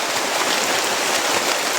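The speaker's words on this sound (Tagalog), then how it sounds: "Medyo umuulan pa mga tol no" Light rain falls steadily outdoors as a continuous, even hiss of drops with no pauses, close and moderately loud, with no voices over it.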